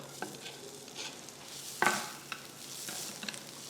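Garlic and ginger saute in sesame oil for paneer chilli, a quiet, soft sizzle broken by a few scraping spatula strokes and one sharper clink near the middle.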